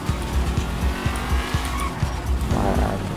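A stolen car in GTA V roars off with loud tire squeal and skidding, its engine revving in rhythmic pulses throughout.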